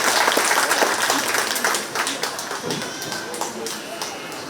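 Audience applause at a 4-H goat show during a 2021 county fair: loud, steady clapping from a crowd fills the arena, with scattered sharp claps standing out before it gradually eases off.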